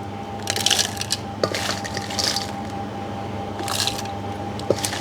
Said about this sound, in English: We use the mini grinder for mince all these ingredients